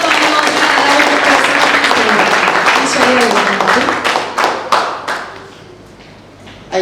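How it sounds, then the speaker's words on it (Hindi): Loud, close applause for a performer at a stage event, dense clapping under a voice, thinning into scattered individual claps before fading toward silence. "प्लीज एक बार कुंती सिंह के लिए जोरदार तालियां"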